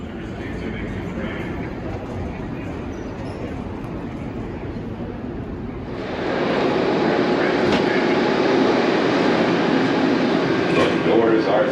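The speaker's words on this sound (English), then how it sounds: "Connections at Denver Airport are quick and easy since the trains run every few minutes" Airport people-mover train between concourses at Denver Airport, a steady rolling rumble that swells louder halfway through as the car runs or passes close, with a voice talking over it.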